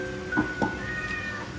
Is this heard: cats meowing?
yes